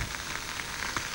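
Food sizzles on a hot plate in a Sizzler restaurant TV advertisement, a dense, steady hiss with faint crackles and pops that runs evenly through the short moment with no talk.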